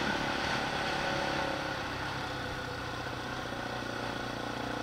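A Bajaj Pulsar RS 200 geared motorcycle runs with a steady, dense engine drone, fairly close and even in level, with no speech.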